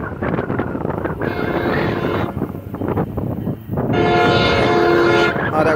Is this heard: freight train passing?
yes